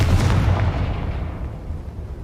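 A Confringo blasting spell cast in the Hogwarts Legacy video game: one heavy, booming explosive burst that rolls out and decays over about two seconds, loud and alone.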